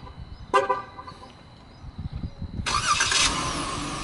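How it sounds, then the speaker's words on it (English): A 2015 Dodge Durango started by remote start: a short horn chirp, then the engine cranks and catches into a steady idle, heard up close. "this one has a remote start, so I'm going to go ahead and start up"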